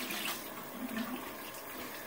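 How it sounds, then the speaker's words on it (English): Tap water runs steadily from a faucet while a washcloth is rinsed during a shave, a continuous broadband splashing hiss at moderate, even level with no voices. "Rinse out your washcloth again."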